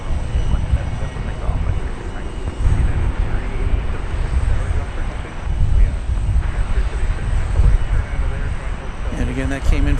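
An airliner arriving at DFW Airport on a flight from Denver, a broad steady engine roar rumbling throughout, loud and close, with someone talking over it.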